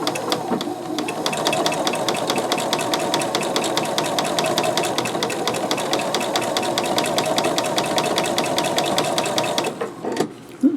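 A sewing machine runs steadily through a small straight applique stitch sewn just inside the edge of the fabric, a dense rapid mechanical whir that continues almost unbroken before stopping near the end, with no voices.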